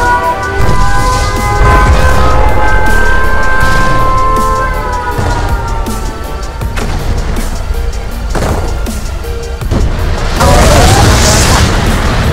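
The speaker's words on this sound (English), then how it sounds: "Warning, nuclear missile launched." Booming blasts from a nuclear missile strike in the Command & Conquer Red Alert strategy game, a series of loud explosive thuds and crashes following an electronic tone, with game voice lines over the din.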